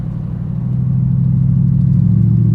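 A classic Lincoln Mk III cruising, its engine a deep, steady low rumble that swells slightly and holds, heard from inside with no voices.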